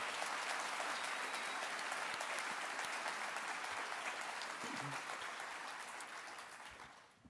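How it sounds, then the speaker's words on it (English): Steady applause fills a room at a 2023 sports awards event honoring Spirit and Courage Award winners, an even wash of many hands clapping that gradually fades toward the end. "please join me in one more round of applause for both our Spirit and Courage Award winners"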